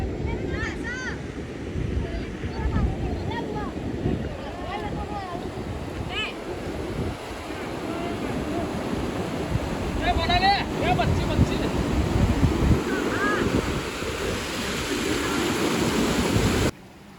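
The Saraswati (Kuvarka) river flows at its confluence with the Arjuni river near Moriya village, giving a steady broadband rush of moving water. Wind buffets the microphone throughout, with a few faint chirps on top.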